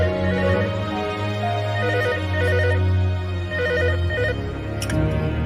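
A phone rings in a dubbed South Indian detective film, its electronic ringtone repeating a steady melodic pattern over a low sustained musical bed, loud and continuous with no talk.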